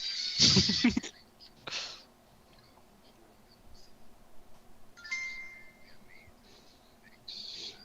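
A phone notification ding rings out loud and bright right at the start, with a second shorter chime about a second later and fainter tones further on over quiet room noise.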